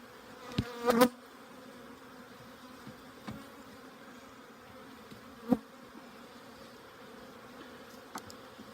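Honey bees buzzing around an open hive during an April inspection, a faint steady hum with a few brief louder passes near the microphone, no talk.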